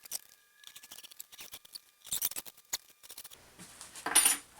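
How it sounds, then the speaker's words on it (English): A knife trims along the edge of a homemade acoustic panel, producing a run of quick, close scratchy cutting strokes and clicks, ending with a brief louder rasp. "we're just going to take a knife, and we're just going to go right along the edge"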